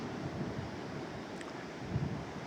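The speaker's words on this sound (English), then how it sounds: "waves crashing over some rocks out to sea" Sea waves crashing over rocks out at sea off a beach near Gribbon Head on a bright day, a steady distant roar of surf with wind noise and two slightly stronger surges.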